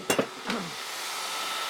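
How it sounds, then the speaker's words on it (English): A tool rest comes off a Shop Master 72-inch belt grinder during knife making: two or three quick, close metallic clanks and clinks, then a quiet lingering room hum. "I'll drop out the tool rest"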